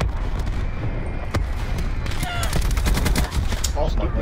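Gunfire in the video game Black Ops 4, dense bursts of automatic rifle fire and rapid shots that build into a loud fusillade near the end, with a sharp single crack along the way.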